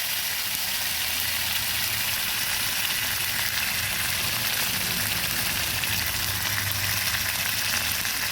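Turmeric stirred into vegetables frying in a pan for a vegetarian bottle gourd and mung dal curry, producing a loud, constant sizzle that runs unbroken throughout, with no talking.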